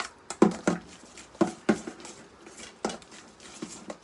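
Tzatziki ingredients being stirred in a bowl, giving irregular clinks and scrapes of a utensil against the dish, fairly close and moderately loud, with no talk.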